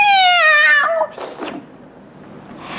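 A person loudly imitates a cat's meow, a drawn-out whiny call, followed by a brief softer vocal sound; no other noises.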